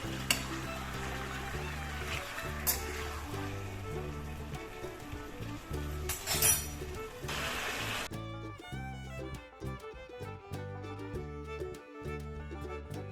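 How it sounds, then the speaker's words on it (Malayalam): Chicken fries on high flame for chilli chicken, giving a dense, steady sizzle with intermittent stirring scrapes, quiet and close, changing character partway through, with no speech. "ഹൈ ഫ്ലെയിമിൽ വെച്ചിട്ട് നമുക്ക് ചിക്കൻ ഒന്ന് കുക്ക് ചെയ്തെടുക്കാം"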